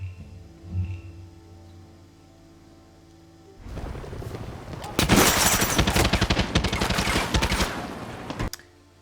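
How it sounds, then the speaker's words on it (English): Rapid automatic AKM rifle fire in a video game, a dense burst of loud, near shots lasting about five seconds after a quiet lead-in, then cutting off abruptly. "Next up we have the AKM Rifle. This can be located right here."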